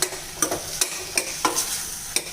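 A spoon scrapes and stirs chopped ash gourd into tomato kuzhambu in a pan, with regular clinking strokes about every half second over a soft sizzle.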